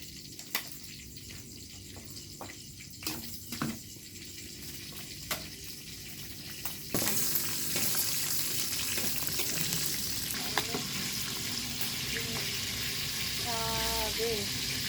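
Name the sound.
chili peppers frying in a pan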